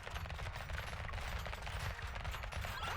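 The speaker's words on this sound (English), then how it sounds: "Couple more shots." Rapid, dense gunfire rattles continuously in the video game Brotato, a steady loud barrage of overlapping shots with no pauses.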